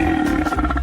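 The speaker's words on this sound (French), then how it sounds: "Alex le lion grogne sur nous" A lion growls in a loud, rough, rumbling roar that runs continuously through the short stretch, close and with no talking.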